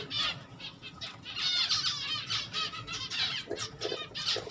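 Pet finches in a cage with a nest holding eggs, giving continuous busy chirps, squawks and wing flutters that sound close and fairly loud throughout.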